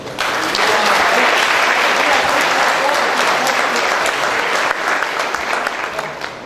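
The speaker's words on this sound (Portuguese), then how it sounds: "eu peço a vocês o nosso aplauso." Loud, sustained applause from an audience at a ceremony honouring founding clubs, dense clapping rising quickly and holding steady for several seconds without speech.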